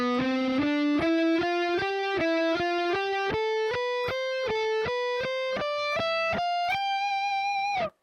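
An electric guitar with distortion runs a fast ascending shred pattern of crisp picked notes in an even rhythm, climbing steadily and ending on a held final note, loud and alone.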